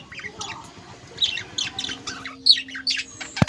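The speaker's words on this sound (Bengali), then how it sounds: "এই আমার হলুদ পাখিটা যেটা ডিম খাচ্ছে," Pet budgerigars in a colony give a run of sharp, chattering squawks and chirps, a dozen or so quick calls close by against a faint steady background hum.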